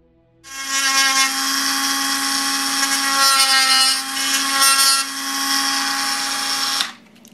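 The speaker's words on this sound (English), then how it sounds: "I'm going to use my handy-dandy Dremel here" A Dremel rotary tool whines steadily at high speed while cutting out plastic areas on a Star Trek Playmates MK VII medical tricorder toy, loud and continuous for about six seconds before spinning down.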